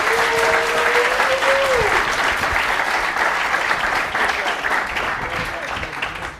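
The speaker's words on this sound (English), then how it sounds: "Round of applause." Crowd at a startup pitch competition breaks into sustained applause, loud and dense, with a brief tonal whistle or voice riding over the clapping early on before it slowly fades.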